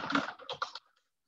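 A brief burst of typing on a computer keyboard, four or five quick, close keystrokes in a row, then silence.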